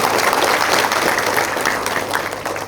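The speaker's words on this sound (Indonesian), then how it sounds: "Boleh tepuk tangan buat Bung Hatta" An audience at a campus lecture applauds, a dense burst of clapping that stays loud and even for a couple of seconds before easing off slightly.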